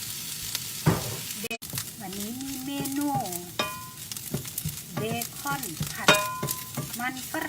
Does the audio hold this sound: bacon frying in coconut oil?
yes